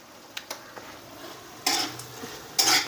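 Spoon clinking and scraping in a bowl while chillies are mixed into curd, a few sharp taps early on, then two louder bursts of stirring and scraping, close and alone.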